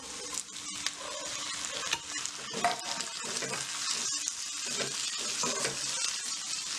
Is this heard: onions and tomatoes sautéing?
yes